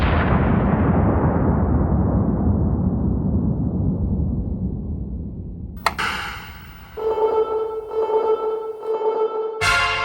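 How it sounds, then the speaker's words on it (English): A single loud blast booms, then a long rumbling decay fades for several seconds before sharp clicks and a steady electronic tone take over. "And like an explosion sound, obviously."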